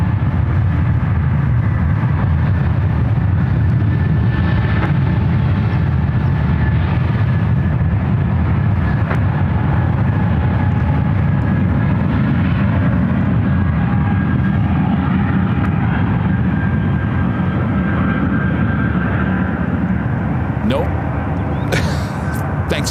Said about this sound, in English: There's a Frontier flight now rolling down to one left.